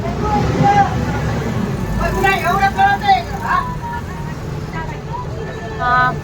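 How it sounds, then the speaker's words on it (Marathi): A bus and cars pulling away after a railway crossing gate reopens, engines rumbling steadily close by with horns and a busy crowd of voices over the traffic. "एक बस निघाली तरी बाकीच्या गाड्या पटपटा सुटत्या"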